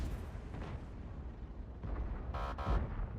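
Tank cannon fire in a video game: a low rumbling boom followed by a sharp bright shot burst near the end, fairly faint overall.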